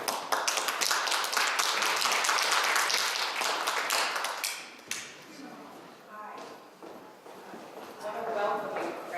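An audience at a Brotherhood Synagogue talk claps to welcome the speaker, a dense burst of applause that fades after a few seconds, leaving scattered claps and voices.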